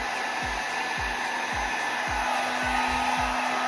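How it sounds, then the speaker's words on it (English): A hairdryer blows steadily on resin poured into coasters to push it into a pattern, a constant loud whooshing hum with a faint repeating low tick, and no talk. "And now with this hairdryer, I'm going to do a pattern."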